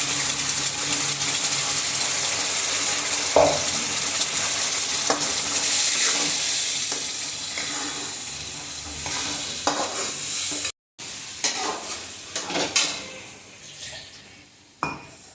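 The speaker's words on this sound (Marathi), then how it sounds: "इथे आपण आता हा वाटून घेतलेला मसाला सोडत आहोत कढईमध्ये" Ground masala sizzles in a hot kadhai while a spoon scrapes and stirs it, with clinks and knocks against the metal pan over a crackling fry that fades toward the end, part of making a quick brinjal curry.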